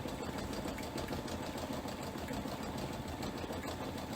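A Luminaire embroidery machine stitches a design with a fast, steady mechanical chatter, close and fairly quiet, its even rhythmic needle ticking running unbroken throughout.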